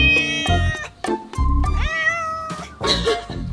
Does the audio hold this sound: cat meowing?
yes